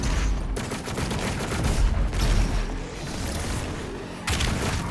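Heavy gunfire from a Doom Eternal battle, a loud, dense barrage of overlapping blasts and booms that continues almost without a break, with a brief lull near the end before another burst.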